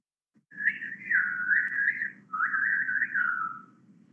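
Grey-fronted green pigeons near fig trees in Goa give two long, wavering whistled calls, clear and fairly close, with a low background hum and no talk.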